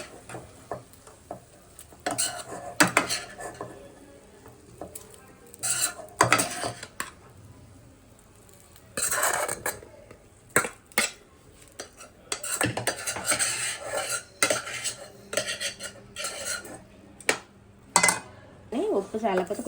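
A spoon stirs a raw mango mixture in a pan on a stove, giving intermittent scraping and clinking bursts with quieter gaps between, while a person talks.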